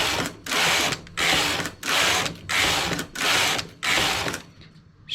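Knitting machine carriage pulled back and forth across rows on a two-colour sleeve, six loud mechanical rattling passes in a steady rhythm, each about half a second apart, close and alone.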